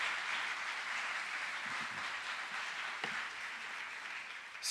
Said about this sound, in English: Can we give a round of applause for Dr. Varden?